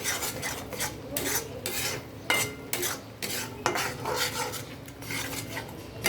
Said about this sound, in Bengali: যতক্ষণ পর্যন্ত না মশলা থেকে তেল ছাড়তে শুরু করবে ততক্ষণ পর্যন্ত আমি এটাকে আর একটু কষিয়ে নেব।